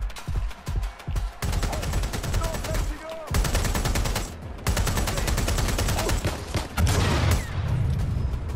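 Heavy gunfire in Watch Dogs Legion: a few scattered shots give way to dense, sustained automatic bursts and rapid fusillades with booming impacts, loud and close, with brief pauses between volleys.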